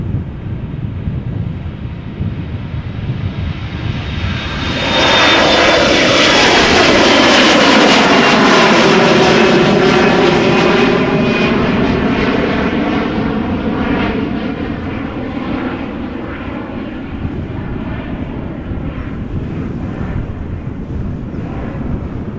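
A KLM Embraer 175 jet at Amsterdam Schiphol Airport roars loudly as it passes close by, its engine noise swelling around five seconds and holding before slowly fading, with a whine and some wind buffeting on the microphone.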